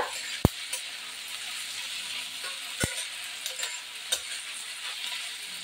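Onion and capsicum sautéing in a pan for chilli chicken, a soft continuous sizzle with a few sharp clinks of a spatula against the pan, heard without any talk.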